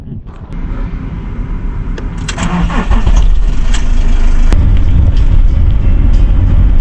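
A car engine cranks and catches, then settles into a loud, steady idle close by, heard alone with no talk.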